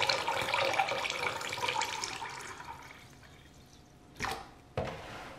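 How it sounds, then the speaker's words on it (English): Distilled water poured into a container while mixing a refill for a Braun shaver cleaning fluid cartridge, a close, steady splashing stream that fades out, then two short sharp knocks at the end. "Now I'll pour the distilled water."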